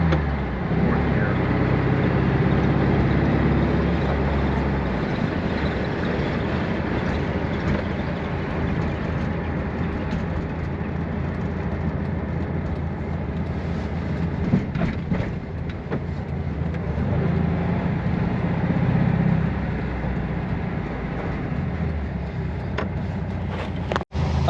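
A 1967 Volkswagen Beetle on a test drive gives a continuous low engine drone and road rumble from inside the car, holding a fairly steady level with small surges and a few bumps.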